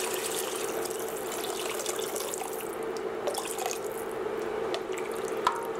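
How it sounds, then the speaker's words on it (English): Water pours from a tap into a saucepan while making chicken ball and rice vermicelli soup, a steady close splashing stream with a ringing tone and occasional drips, no talk over it. "And then I'm going to add water to my saucepan here."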